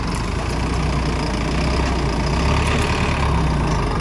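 A Swaraj tractor engine with a shuttle gear runs steadily during puddling work in a wet field, a loud continuous low rumble with no pauses and no speech.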